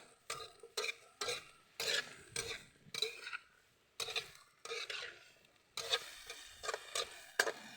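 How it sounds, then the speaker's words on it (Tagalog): Vegetables cooking in soy sauce in a pan, with repeated scraping strokes of a utensil against the pan over a quiet sizzle, rhythmic and close, with no voices. "Niluluto lang siya sa toyo."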